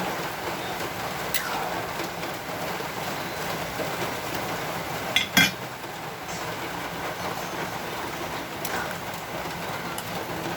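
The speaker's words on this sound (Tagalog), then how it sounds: "Dahil maulan pa rin." Rain falls steadily in a broadband hiss with faint patters, continuous and moderately close, broken by a couple of brief sharp knocks near the middle.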